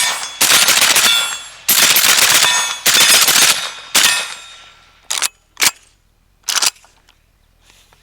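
An AK-pattern rifle fires 5.56 rounds from a 'Fat Bottom Betty' magazine, loud and close: three long sustained bursts and a shorter fourth, then three brief separate shots with silence between.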